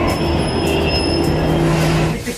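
Metro train pulling into an underground station, a loud steady rumble with sustained high-pitched wheel squeal and rail clatter, fading slightly at the end.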